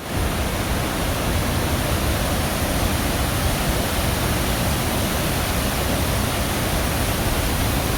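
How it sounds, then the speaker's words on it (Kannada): A continuous, dense rush of falling water at Vazhachal waterfalls, beside the road to Thrissur. It is loud and unbroken and fills the whole stretch without pause. "ನಾವೀಗ ವಜಾಚಲ್ ವಾಟರ್ ಫಾಲ್ಸ್ ಹತ್ರ ಇರ್ತೇವೆ, ನೋಡಬೇಕು ಎಷ್ಟು ನೀರಿದೆ ಅಂತೇಳಿ"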